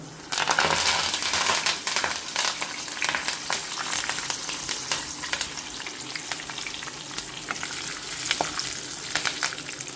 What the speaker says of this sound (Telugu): అయితే వేగింది ఇప్పుడు నేను కరివేపాకు వేస్తున్నాను